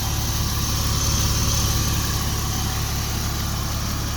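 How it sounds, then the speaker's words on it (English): A car engine idles steadily with a low, even rumble and a faint high whine, continuous and fairly close, with no one speaking. "Engine runs very well."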